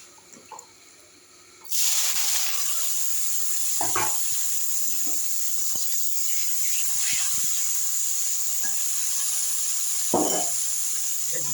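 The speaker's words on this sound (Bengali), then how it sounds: "উচ্ছে ভাজা" Bitter gourd frying in a hot pan, a steady loud sizzle that starts abruptly after a quiet moment and runs continuously, with occasional clinks and stirring sounds.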